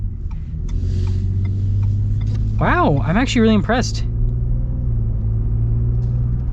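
A 2023 Ford F-150 with a 3.3L V6 engine rumbles steadily while driving through a parking lot. A person speaks briefly partway through over the low engine drone.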